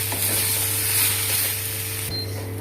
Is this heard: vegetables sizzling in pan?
yes